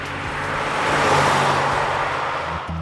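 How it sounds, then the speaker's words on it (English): A 1979 Pontiac Trans Am 10th Anniversary Edition V8 revs steadily and loudly up close, a low throaty engine drone that swells and eases over about three seconds with no talking. "it still makes a great noise. I mean, you can still tell it's a V8."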